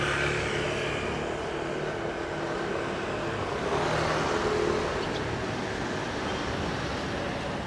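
Street traffic along Jalan Kayu Aya in Seminyak, Bali, a steady wash of passing cars and motorbikes heard from the roadside, moderately loud and continuous with no clear individual events.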